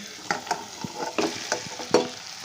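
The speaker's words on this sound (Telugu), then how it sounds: "ఇప్పుడైతే దీనిలో అన్నం కలిపేసుకుందాం." Rice is stirred into tomato masala in a pan for tomato rice, giving repeated scraping and clattering spoon strokes over a faint sizzle, close and clear.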